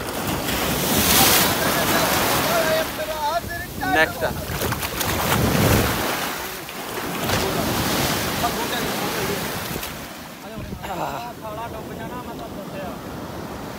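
Sea waves surge and wash onto a Dubai beach on a windy morning, with loud broad surf and wind buffeting the microphone, and someone speaking briefly over the water.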